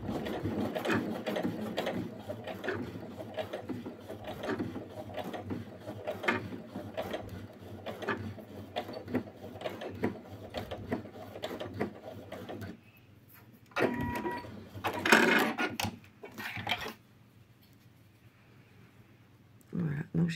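A sewing machine stitches a reinforcing backstitch on a men's raglan hooded sweatshirt, with a steady mechanical whirring and clattering that stops, then returns in short bursts. A voice talks over it.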